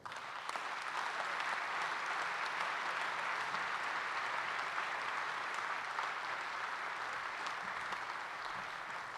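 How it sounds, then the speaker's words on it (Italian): Sustained applause from a large audience at a Grand Orient of Italy Grand Lodge gathering welcomes a lecturer, a dense, steady clatter of many hands filling the hall at even loudness throughout, with only faint murmurs beneath. "dopo il benvenuto che le ha dato il nostro applauso"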